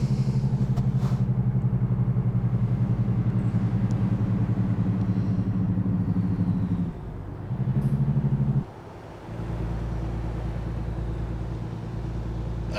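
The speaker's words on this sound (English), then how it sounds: "Jake braked. Did you hear it go?" A heavy truck's Jake brake in American Truck Simulator gives a loud, steady, low machine-gun rumble close by, briefly cutting out and resuming, then easing to a lower engine drone.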